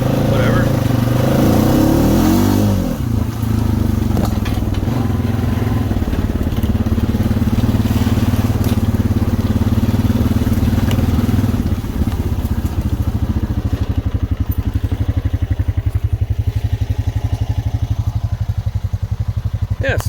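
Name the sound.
2016 Honda Rancher ATV riding on 28-inch tires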